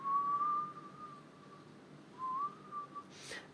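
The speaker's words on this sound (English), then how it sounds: "The hundreds and hundreds mountain pikes are, it sounds as if they are faintly whistling" Among hundreds of mountain rock pinnacles, a faint, thin whistling tone rises and holds, wavering slightly, then returns after a short lull in a second, briefer whistle, quiet and alone with no voices.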